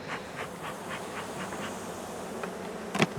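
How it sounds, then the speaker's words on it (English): Honeybees buzzing around an opened hive box, a close, steady insect drone with several individual bees zipping past near the microphone. "Now, if you don't wanna shake bees, you don't have to."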